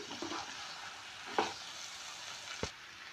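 Leftover chapati tossed with a spice tempering in a pan, a steady soft sizzle of frying with two distinct spatula knocks against the pan, no talking.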